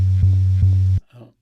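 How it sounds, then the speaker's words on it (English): Sampled, isolated bass guitar notes: a deep sustained tone re-struck twice, then abruptly cut off, followed by a brief, quieter low note. "I went through one of the bass sections and I cut up his notes that he played here."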